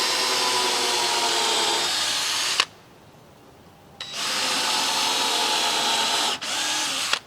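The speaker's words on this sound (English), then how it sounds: "am pre-drilling these. I want the screw to hold to our beam." Power drill pre-drilling a wooden beam for 4-inch decking screws while building a farm bridge: a loud, steady whine runs for a couple of seconds, stops, then starts again for a longer stretch with a brief dip, close by and alone.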